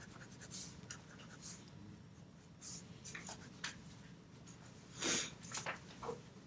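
Prismacolor colored pencil scratches across paper in soft, irregular strokes, blending white over color, with a few louder scrapes near the end against a faint background.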